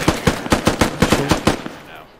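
A rapid string of automatic gunfire in the video game Squad: about ten sharp, evenly spaced shots in two seconds, close and loud, then a quick fade into quiet.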